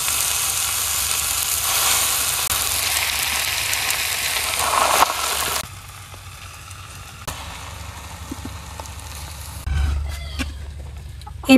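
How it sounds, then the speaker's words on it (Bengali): Jute leaves dry-roasting in an empty pan with no oil over a village stove, giving a soft continuous hiss and crackle that drops quieter midway, with faint background noise and a low hum. "এবার আমি পাট শাক খোলায় টাইলে নিব, একেবারে খালি খোলায়, তেল ছাড়া"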